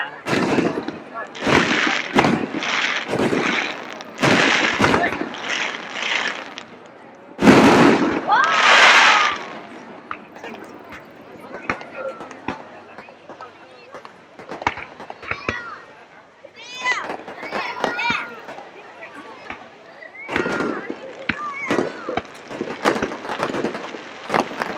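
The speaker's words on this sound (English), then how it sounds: "Fireworks." Fireworks burst in loud, repeated explosions at a fire acrobatics show during the Matsudo fireworks festival, with a dense volley early on and scattered cracks and booms later, while crowd chatter continues underneath.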